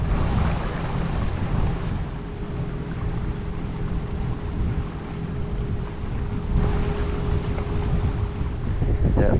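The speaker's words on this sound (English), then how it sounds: "Yeah, passing the ferry here now." Motorboat cruising past a ferry on the Norfolk Broads, a steady low engine drone with wind buffeting the microphone throughout, continuous and fairly loud with no speech.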